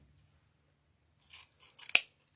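Scissors cutting polyester fabric for a Christmas banner wreath, a few short close snips ending in a sharp, crisp final cut, with no talking.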